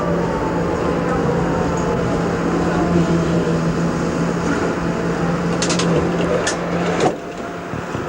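A 1991-era Berlin tram brakes for a stop, a loud steady rumbling hum with a falling whine, clanks near the end, then a sudden drop to a quieter idle.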